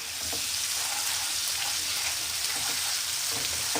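A spoonful of garlic-ginger paste frying in a pan with a smooth onion, tomato and chili mixture, giving a loud, continuous close-up sizzle that hisses evenly throughout.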